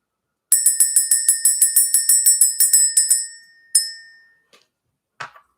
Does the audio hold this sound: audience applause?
no